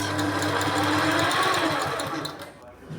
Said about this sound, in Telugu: మనం క్లాత్ని నీట్గా చూసుకుంటూ స్టిచ్ చేసుకోవాలి సో ఇలా